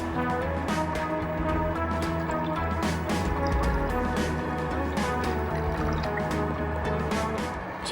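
Water pouring and trickling onto chicken in a pot, set for boiling before making green chilli chicken biryani, heard as a steady, close liquid splashing and dripping with no talk.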